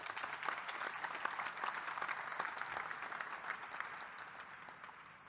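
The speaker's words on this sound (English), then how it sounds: "Please give them a round of applause" A press conference audience gives a sustained round of applause, a dense, even patter of many hands clapping at moderate distance with no voices over it.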